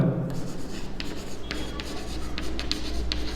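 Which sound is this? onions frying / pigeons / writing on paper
writing on paper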